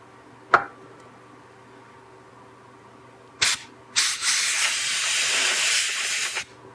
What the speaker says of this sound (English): Bit of brake clean.